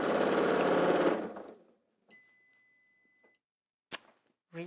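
A sewing machine stitches a quilt with a fast, steady whirring run for about a second, then stops, followed by a short electronic beep and a few quiet clicks and knocks.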